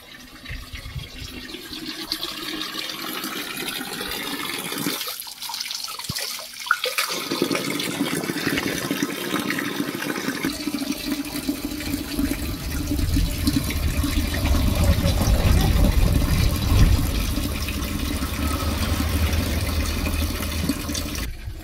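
Water from a sweet, cold mountain spring stream runs steadily into a container being filled in a valley in Uttarakhand, a continuous close rushing and gurgling that grows fuller and deeper as the vessel fills, with no talking.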